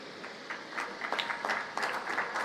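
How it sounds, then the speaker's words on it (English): An audience at a food security summit in Tanzania claps in a steady, moderately distant patter of applause, with no speech over it. "We really applaud you for traveling from Mali."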